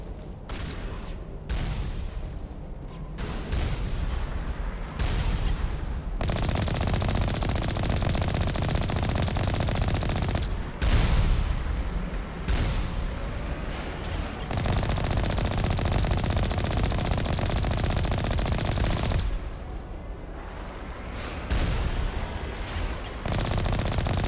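Gunfire in the Mass Effect video game, with repeated bursts of shots over a steady noisy battle background, loud and continuous with brief pauses.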